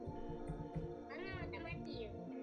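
A cat meows in a Roblox game, two short rising-and-falling cries in quick succession over busy game music and a child's chatter.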